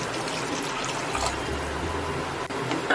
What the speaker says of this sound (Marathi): त्यामध्ये 1 वाटी पाणी घालून घेते